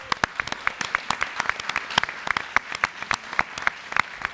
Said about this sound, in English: Alors, oui, on va l'applaudir d'abord.